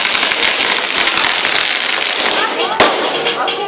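Firecrackers crackle continuously at a 60th birthday celebration, a dense loud stream of pops and bursts with a sharper bang near the end, with voices in the crowd.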